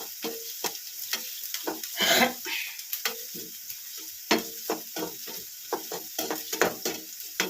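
Fenugreek leaves and egg burji frying in a pan, with a steady sizzle broken by repeated sharp scrapes and clicks of stirring, fairly close and without talk.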